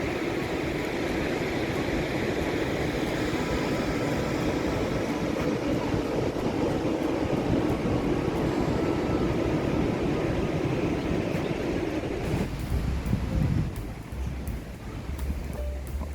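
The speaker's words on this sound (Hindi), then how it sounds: "तो चलिए इन समंदर की लहरों का आवाज़ का आनंद उठाते हैं।" Sea waves wash onto the beach below a resort at Ganpatipule on the Konkan coast, a steady, loud, rushing roar that fills the air without pause, with a heavier low surge near the end before easing slightly. No one speaks.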